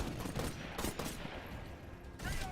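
Smart pistol and rifle fire rattle off in rapid bursts in Titanfall, a dense, loud flurry of shots with brief gaps between volleys.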